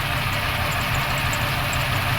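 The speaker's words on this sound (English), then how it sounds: "this engine is really shaking now" A 1995 Suzuki Escudo engine runs rough at idle, a steady low droning rumble with shaking vibration, close and loud with no talking.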